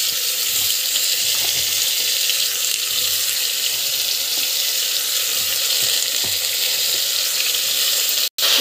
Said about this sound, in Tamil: நல்லா வந்து வதங்கட்டும். நல்லா வந்து வதங்கணும்.